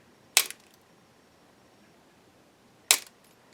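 Two sharp, crisp snips spaced a few seconds apart, like flush cutters slicing through zip ties, close and clear over near silence.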